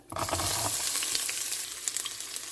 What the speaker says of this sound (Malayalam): ഒന്ന് വഴറ്റാം.